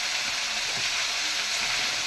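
Coconut sautes in a pan, giving a dense, steady hiss of sizzling that is close and fairly loud with no talk.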